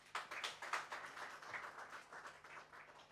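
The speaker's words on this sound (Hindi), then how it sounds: "आप ताली बजाइए एक बार" An audience at a lecture on Sanskrit teaching methods gives a brief round of applause, with light, scattered hand claps heard faintly.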